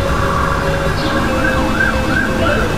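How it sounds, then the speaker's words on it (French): A police-style wailing siren from the Zelda: Legend of Link game plays loud and steady throughout, its pitch sweeping up and down over constant background noise. "les bruits de police sont dans le jeu"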